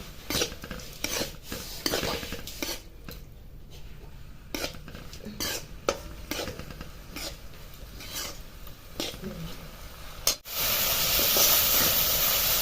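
Soaked moong dal being sautéed in a spiced oil tempering in a pan: repeated spatula scrapes and clicks over a soft sizzle, ending in a sudden loud, sustained hiss.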